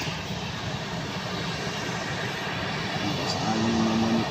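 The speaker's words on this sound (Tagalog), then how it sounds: "pag video ng mga palipad na eroplano" An AirAsia airplane passes overhead, a continuous broad engine roar that swells slightly toward the end, loud and steady with no talking.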